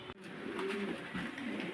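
A male fantail pigeon and a blue magpie pigeon coo with soft, low, rolling calls in two or three drawn-out phrases, close by over a faint steady background.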